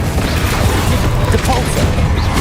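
Confringo explosion spell blasts in the game Hogwarts Legacy, a loud continuous rumble of booms and crashes with dense low-end energy, mixed with shouted spell incantations over the battle noise.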